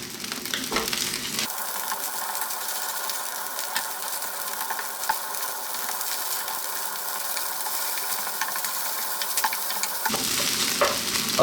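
Beaten egg fries and sizzles steadily in a hot pan for takeaway-style egg fried rice, with frequent stirring scrapes over a continuous close hiss and no talking.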